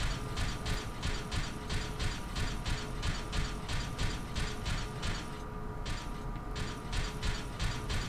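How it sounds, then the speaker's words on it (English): Rhythmic metallic clanking of armor in Resident Evil 4, a steady repeating clatter of plates and mechanisms, fairly loud and continuous with a brief lull near the end, no talk over it. "Pretty soon you won't have to hear the clanking of that armor anymore."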